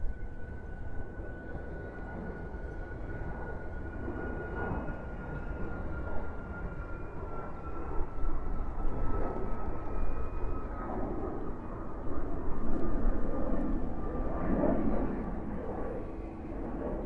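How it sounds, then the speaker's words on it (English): Alaska Airlines jet, Flight 227 to San Francisco, taking off at JFK airport: a steady, fairly distant engine roar with a sustained whine, swelling slightly toward the end. "Takeoff is Alaska Flight 227, service to San Francisco"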